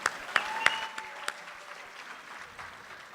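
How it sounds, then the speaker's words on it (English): Audience at a youth talent event applauding, a few distinct claps up front settling into a soft, diffuse patter of applause that fades, with faint voices underneath. "I think they deserve a huge round of applause"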